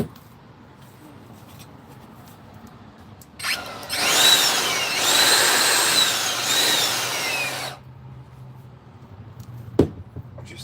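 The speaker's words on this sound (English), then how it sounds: "There's that blower." A blower blasts debris out of a Texas Mickey jack in a loud, hissing rush that lasts about four seconds amid quieter workshop handling, followed by a sharp knock.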